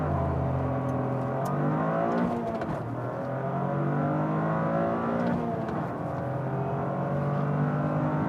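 A 2023 Toyota GR Corolla launches on a track, its engine revving hard and climbing through rising pitches with quick shifts, loud and close, steady and uninterrupted.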